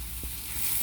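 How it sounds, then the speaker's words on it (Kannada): Haralekai chithranna masala frying in a pan, a steady close sizzle with faint stirring scrapes, no voices. "ಈಗ ಈ ಮಸಾಲೆ ಹಾಕಿದ್ಮೇಲೆ 3 ರಿಂದ 4 ಚಮಚ ಚೆನ್ನಾಗಿ ಫ್ರೈ ಮಾಡ್ಕೋಬೇಕು"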